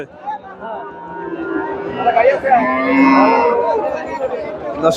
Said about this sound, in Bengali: গাভীটা মাসাল্লাহ বেশ বড় একটা গাভী ফ্রিজিয়ান